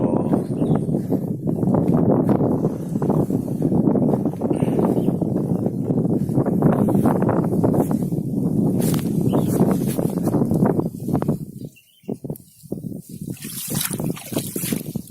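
Water runs steadily through a village irrigation channel in Tegalrejo, Probolinggo, on an afternoon, with a loud continuous rushing and gurgling and bursts of wind buffeting the microphone, briefly dropping away near the end.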